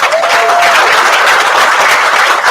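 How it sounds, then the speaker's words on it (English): A summit audience claps loudly and steadily, a close, dense burst of applause lasting a couple of seconds without letting up. "So another round of applause for Jack Leach"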